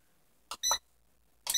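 Air fryer control panel giving short electronic beeps as a chicken setting and timer are selected, three brief separate tones in a quiet kitchen.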